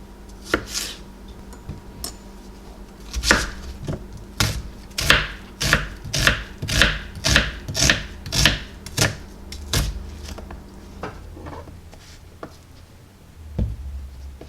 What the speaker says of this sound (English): So I'm going to chop up all this